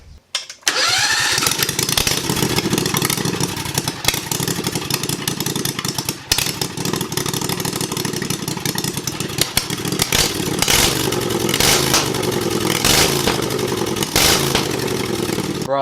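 A 670cc V-twin engine on a Chinese dune buggy, fitted with headers, cranks and catches, then idles loudly and close with a rough, clattering, uneven lope that continues throughout.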